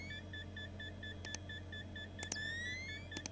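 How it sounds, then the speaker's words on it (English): Quiet electronic beeps repeat at an even pace during the horror video game Fears to Fathom, set in a house, with a few sharp clicks and faint higher tones over a low background hum. "What's with the beeping?"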